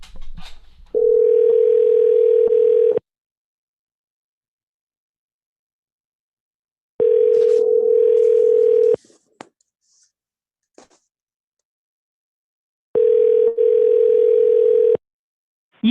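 Telephone ringback on an outgoing call before it reaches voicemail: three separate steady two-second tones with long silent gaps between them, alone and at moderate loudness, with faint clicks in one gap.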